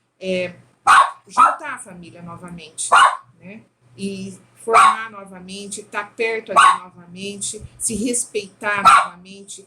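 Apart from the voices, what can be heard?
dog barking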